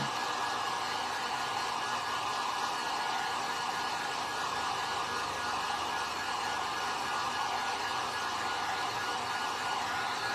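A hair dryer blows steadily on fresh paint over a chicken feather stencil, a loud, close, unbroken whooshing hum lasting the whole stretch, with no voices.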